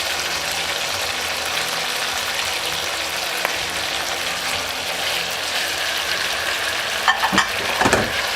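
Chicken adobo being stirred in a cooking pan, a continuous sizzling hiss with scraping and clattering from the utensil that grows busier toward the end, with no talking.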